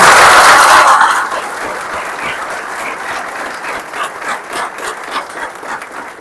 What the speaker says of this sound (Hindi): please give a big hand to all the parents who have come here.